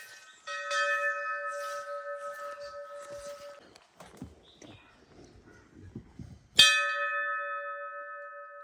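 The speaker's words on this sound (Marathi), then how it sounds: "मंदिराच्या घंटेचा आवाज आमच्या कानावर पडला" Two loud, ringing temple bell strikes at a Konkan shrine, each followed by a long sustained hum, separated by faint clatter and quiet movement.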